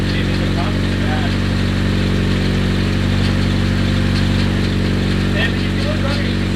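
Rebuilt Nissan KA24DET engine running at a steady idle, a loud continuous low drone close by, with a person's voice briefly over it.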